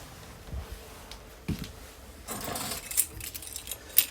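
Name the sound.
RV keys jangling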